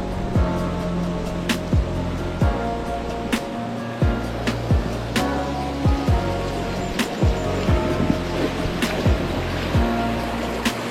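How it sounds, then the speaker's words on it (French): Water tumbling steadily over moss at a small waterfall on a riverside fishing camp, a continuous rushing wash that stays close and even, with repeated sharp clicks and knocks over the top. "un endroit comme ça, avec une cascade qui coule de la mousse comme ça là"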